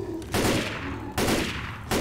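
Gunfire in the zombie shooter Left 4 Dead, Dead Air campaign: three loud, close bursts of rapid shots, each cutting in abruptly and trailing into a rumbling decay.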